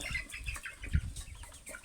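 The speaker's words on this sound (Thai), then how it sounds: "อันนี้ไก่สองเดือนนะครับนะ ไก่สองเดือนตัวเป้งมากนะครับนะ" Phu Phan black chickens, about two months old and raised on a farm, give soft scattered clucks and rustling movements against steady outdoor background noise.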